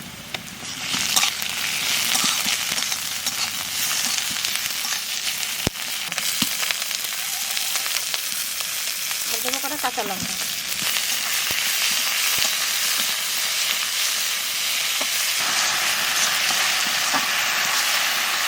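Onion and ginger-garlic paste fry in hot oil for a dal fry, a loud, dense, continuous sizzle with occasional stirring clicks and a brief warbling tone midway.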